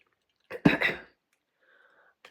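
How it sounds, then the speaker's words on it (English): One short, close cough or throat-clear bursts out in a quiet indoor setting, then fades to near silence with a faint tone at the end. "Sorry, the talking is going to make me cough."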